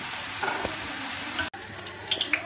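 Onions browning in ghee in a large cooking pot, giving a steady broadband sizzle with stirring clatter that breaks briefly partway through, then continues with small sharp pops.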